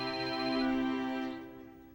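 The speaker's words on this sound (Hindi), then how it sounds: "पहले फोन तो उठाओ" A telephone ringtone plays as a steady electronic melodic tone that holds level and then fades off, close and alone with no talk.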